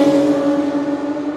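A Peugeot car engine drones steadily at high revs, a strong sustained hum with slight wavering, close and loud throughout with no voices.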